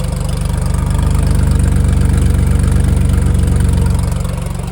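A 4.9-liter mid-rear-mounted flat-twelve engine of a 1987 Ferrari Testarossa idles steadily up close, a deep, even rumble with a constant low throb and no voices.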